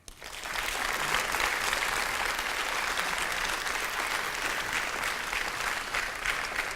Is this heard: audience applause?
yes